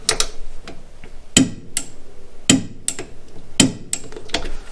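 A Tekton split-beam torque wrench clicking, three sharp metallic clicks about a second apart, close and crisp, with softer handling taps between them.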